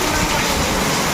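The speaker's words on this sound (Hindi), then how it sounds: "बहुत ज़्यादा पानी गिर रहा है" Heavy monsoon rain pours down in a rural Indian village, a dense, steady broadband wash that fills the short moment without a break.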